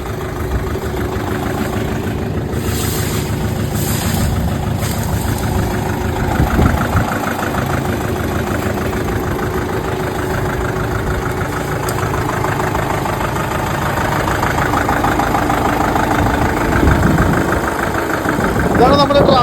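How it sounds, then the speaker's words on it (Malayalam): A Kubota 30 HP tractor engine idles nearby, producing a steady, unbroken low drone that stays level for the whole stretch, with faint voices in the background. "കുബോട്ടയുടെ 30 HP ട്രാക്ടറാണ്."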